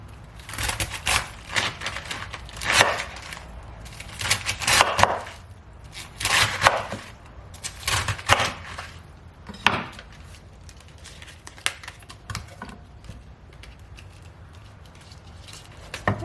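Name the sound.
knife chopping Chinese cabbage into small squares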